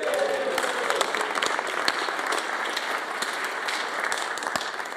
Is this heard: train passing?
no